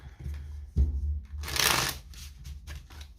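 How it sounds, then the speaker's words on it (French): Tarot-style cards handled and set down for a reading, a soft thump followed by a brief papery riffle and a few light taps, close and fairly quiet with no talking. "on va poser nos cartes"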